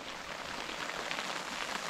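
Hail drums steadily on a Six Moon Haven Bundle ultralight tarp tent weighing 964 g, a dense, even patter of countless small impacts close overhead with no voices.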